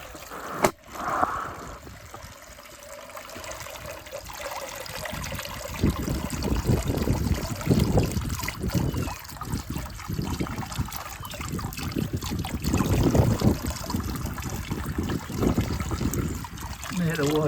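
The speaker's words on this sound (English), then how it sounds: "And the fountain should start running again." A garden fish pond fountain starts running again after the air is switched back on, a steady trickle and splash of water close by with a voice talking over parts of it.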